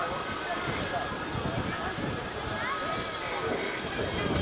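A Hawker Hunter jet comes in to land at Kemble airfield during an airshow, its engine a steady broad roar with wind buffeting, heard from a distance and blending with crowd noise.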